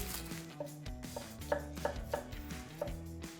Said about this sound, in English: We want to do some diced onion as well, so I'll go ahead and get that going.